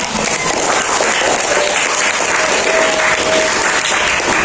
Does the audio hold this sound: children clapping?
yes